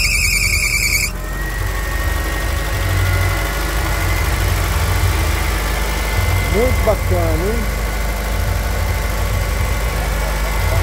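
A Volkswagen Brasília, a highly original classic car, idles with a steady low engine rumble throughout, while someone talks over it near the car.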